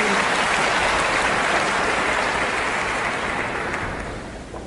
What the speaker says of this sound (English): Perhaps you're clapping for yourself.